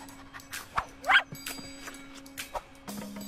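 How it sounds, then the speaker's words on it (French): A hungry dog gives a few short, sharp barks and yips at a distance, scattered among quiet background noise and a steady low hum. "Par un chien affamé."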